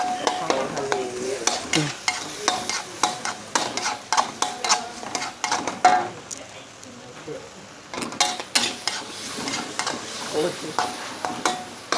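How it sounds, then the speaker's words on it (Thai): Squid tossed and stir-fried in a hot pan: repeated rhythmic scrapes and clatters of a utensil against the metal over a continuous sizzle, close and fairly loud, with brief talk at moments. "ผัดปลาหมึกเจ้าค่ะ"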